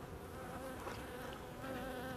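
Honeybees buzz steadily and densely throughout as a beekeeper adds bees to a queen-rearing box, a continuous close hum filling the whole moment at an even level.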